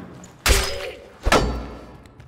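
A weapon in the game Dark and Darker strikes the surrounding environment, giving two heavy, dull thuds about a second apart, each with a brief ringing tail, loud and close.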